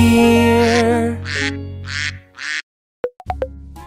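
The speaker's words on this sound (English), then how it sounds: "Those are ducks." Ducks quack in a run of four loud, nasal quacks, followed after a brief silence by a few short, sharper calls and a low hum.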